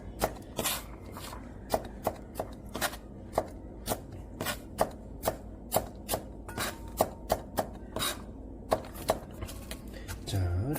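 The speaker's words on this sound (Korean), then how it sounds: "칼로 잘게 썰어 놓은 것을 이렇게 살짝 빻는 과정이에요" Knife-chopped walnuts get lightly crushed and pounded, a string of sharp, regular knocks at a moderate pace over a quiet background, fairly close and distinct.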